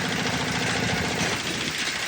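A small 5 HP Giriraj nano tractor engine with metal wheels runs steadily with a rapid, rough chugging rhythm and mechanical rattle, close and continuous, no talking.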